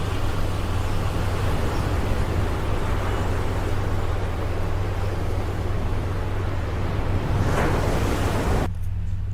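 Ocean waves wash steadily as continuous broadband surf noise, even and moderately loud throughout with no pauses, then cut off abruptly near the end.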